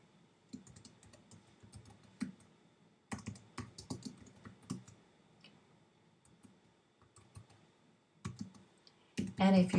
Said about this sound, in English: You can begin to type,